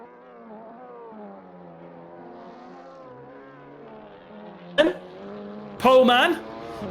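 Race car engine in a TCR Europe sim racing game at Monza, a whining tonal drone shifting pitch through gear changes, mostly faint under a commentator's voice, with two louder bursts near the end.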